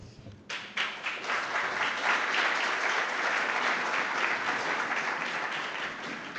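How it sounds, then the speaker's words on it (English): A seated audience at the EAIR Forum 2023 keynote breaks into applause after a short quiet start, a full, even round of many hands clapping that holds steady and slowly eases. "Wait until you hear me out first before you give an applause."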